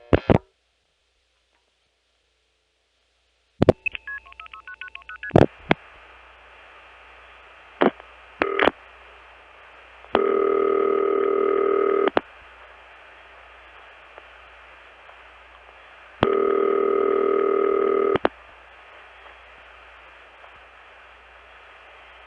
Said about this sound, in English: Here are 2 more calls to the Chicago area from my Long Island Crossbar 5 line via Hempstead